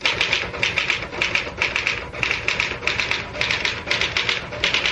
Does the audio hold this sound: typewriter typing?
yes